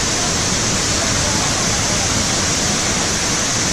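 Mae Puai waterfall (Huai Hoi) in Thailand, a steady broadband roar of falling water close by, continuous and loud with no pauses.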